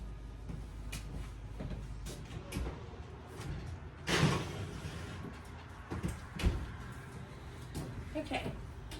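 A kitchen oven door swings open with a rattling rush and later shuts with a clunk, both close by, amid quiet handling noises and some faint talk.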